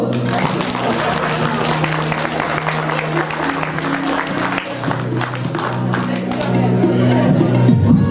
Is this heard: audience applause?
yes